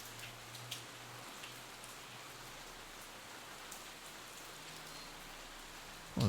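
Rain falling in the survival sim video game City 20, a steady soft hiss of drops with a few faint ticks, quiet and alone without talk.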